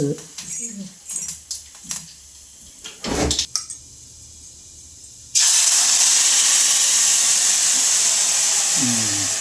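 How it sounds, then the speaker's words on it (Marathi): Talking first, then cumin and spices hit hot oil for tempering a chutney with a sudden loud sizzle that keeps crackling and hissing steadily until the end. "चटणीला फोडणी द्यायची इथे"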